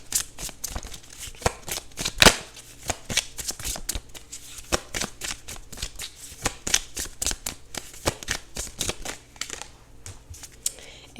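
Tarot cards are shuffled by hand in a quiet room, giving a rapid, uneven run of crisp riffling flicks and slaps that continues alone for about eleven seconds.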